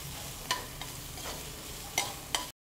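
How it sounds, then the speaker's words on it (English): Seasoning sizzles and fries in a pan over a medium flame, a close, steady crackle broken by a few sharp scrapes and clacks of a stirring utensil, with no talk. "Cook the seasoning on medium flame."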